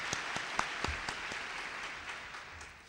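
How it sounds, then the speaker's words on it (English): Audience applause at a 2006 Partners in Education breakfast, a steady room-filling clatter of many hands clapping that runs throughout, with a few sharper individual claps standing out near the start. "Round of applause for them."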